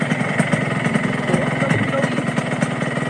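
A motorcycle engine runs steadily near the microphone, a continuous mid-pitched idle with a faint rhythmic pulse, while voices talk over it.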